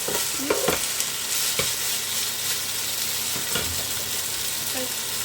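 Purple mushrooms blanched in a pot, giving a steady bubbling, stirring sizzle with a few louder scrapes and clinks close by, no talking.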